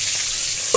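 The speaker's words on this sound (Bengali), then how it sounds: "আমি স্টিম মাছ করে সামান্য একটু তেল দিয়ে ভাজা ভাজা হবে" Steamed fish frying in a little oil in a pan, a steady close sizzle running evenly throughout with a faint brief clink near the end.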